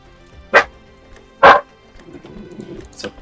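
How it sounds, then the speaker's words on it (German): A dog barks twice indoors, each bark loud, sharp and close, about a second apart. A fainter third yelp follows, with low rustling in between. "da meldet sich der Hund wieder zu Wort"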